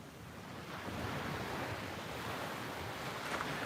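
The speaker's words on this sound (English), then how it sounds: "we don't even have big waves today. This is the Atlantic Ocean." Calm Atlantic Ocean waves wash onto a beach in a steady, soft roar of surf, with gentle wind buffeting the microphone throughout and no voices.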